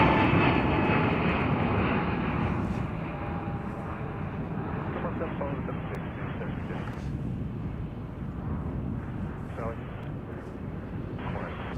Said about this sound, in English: On a 747-400 freighter.